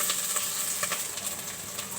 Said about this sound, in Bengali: শুটকিগুলো একটু ভেজে নিলাম তেলে।